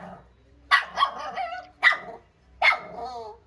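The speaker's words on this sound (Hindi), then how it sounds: "टफी उसको देखकर बहुत तेज तेज की भौंक रहा था" A tied-up dog barks loudly and repeatedly at someone nearby: three or four sharp, close barks with short gaps between them over a low background hum.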